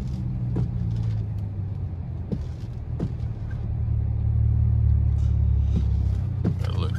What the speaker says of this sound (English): Every time I take off, I'm doing burnouts almost.